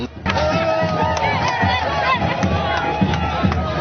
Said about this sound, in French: président interfédéral Jean Kalinga Mambepa l'a inauguré en coupant les ribbons symboliques sous les acclamations de la foule en liesse.